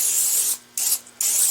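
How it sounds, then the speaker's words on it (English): Cooking spray hisses onto a baking pan in three bursts: a long steady spray, a short one, then another steady spray, close and fairly loud with brief gaps between. "always spray your pan."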